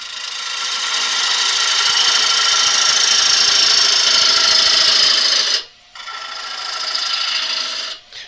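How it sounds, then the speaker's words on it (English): Bowl gouge with a 45-degree bevel taking a deep cut into wood spinning on a lathe, a steady loud hissing rasp that holds for several seconds, drops out briefly, then resumes before stopping. "if I take a cut with the 45 degree bevel just halfway down"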